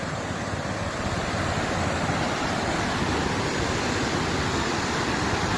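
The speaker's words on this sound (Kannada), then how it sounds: "ಡೈಲಿ ಒಂದು ದಿನಕ್ಕೆ ಒಂದು ಟಿ ಎಮ್ ಸಿ ನೀರು ಈ ನದಿಯಲ್ಲಿ ಹರಿತದೆ" Broad, steady rushing of water flowing in the Kumudvati river, a constant close wash of noise with no pauses.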